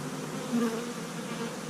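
Honey bees in a winter beehive opened on a warm January day, a close, steady droning buzz with one brief louder swell partway through, no voices.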